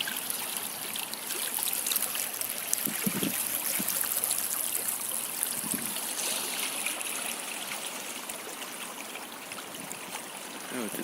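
Water of a stream in a green outdoor spot with ducks nearby, flowing and trickling in a steady, moderately loud babble that continues unbroken, with a few faint thumps but no talking.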